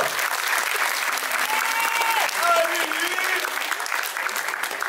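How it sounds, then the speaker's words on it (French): Audience applause at a Réunion pageant evening, a dense crowd clapping steadily for about five seconds, loud and close, with a faint voice briefly underneath. "On peut l'applaudir."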